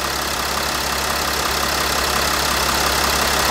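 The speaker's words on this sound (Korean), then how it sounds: "벨트가 안 좋네. 소리가 많이 나는 거 보니까." A used Kia Mohave with about 200,000 km over ten years idles with a noisy, worn drive belt, giving a steady, loud, close engine drone that holds level without a break and has no talk over it.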